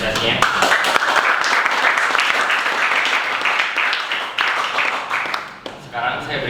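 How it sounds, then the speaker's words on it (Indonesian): Applause from an audience at an academic presentation session, dense clapping from many hands that stays full and loud before tapering near the end, with a voice briefly heard under it. "Sekali lagi tepuk tangan apresiasinya."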